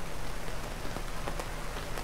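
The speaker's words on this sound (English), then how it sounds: "The rain has started." Rain beginning to fall at an RV campsite in Daingerfield State Park, a soft, close patter of scattered drops over a quiet background, briefly heard with no one speaking.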